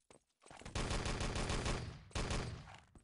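Rapid automatic gunfire in the video game Enemy Territory during a competitive match, two loud sustained bursts of tightly spaced shots separated by a brief pause, with a few isolated shots at the start.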